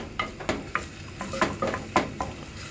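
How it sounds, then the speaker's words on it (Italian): Garlic and onion sautéing in a pan for a soffritto, a soft background sizzle punctuated by a quick series of spoon scrapes and taps against the pan, close and fairly quiet, without voices. "l'aglio, fate soffriggere, fate un bel soffrittino."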